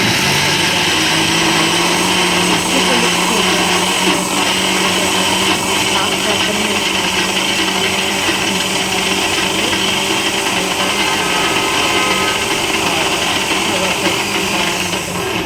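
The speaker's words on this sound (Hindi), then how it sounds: "नमक, लाल मिर्च डाल करके इस बैटर को फेंट लिया है।" An electric mixer or blender runs steadily and loudly throughout, whisking a batter of garlic, black pepper, cumin, salt and ginger. The motor whirr stays unbroken and close.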